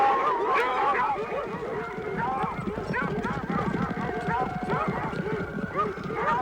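Horses' hooves clip-clop in a busy, irregular rhythm close by, with a whinny or two, beneath steady conversation between riders on spirited horses.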